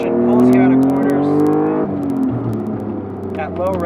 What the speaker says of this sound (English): the way the engine pulls you out of corners